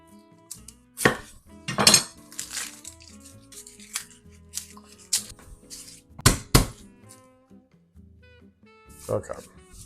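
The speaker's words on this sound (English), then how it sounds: "I'm just gonna prep our onions and garlic" Onions and garlic being chopped on a board, with irregular knife knocks in short bursts and quiet gaps between, under occasional talk.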